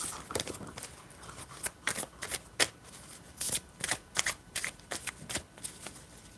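Tarot cards are shuffled by hand in a series of quick, crisp riffling bursts with short pauses between them, close and fairly quiet, with no talking.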